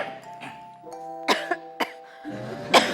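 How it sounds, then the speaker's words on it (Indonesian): Several short coughs from a doctor, close and sharp, over a held musical tone with a light background bed. "Dokter batuk juga."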